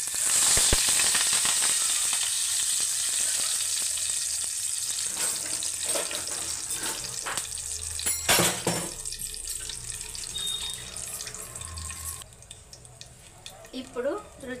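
Dry red chilli, mustard seeds and curry leaves tempering in hot oil: a bright hiss and sizzle with scattered pops and clatters, fading slightly over time, while someone speaks.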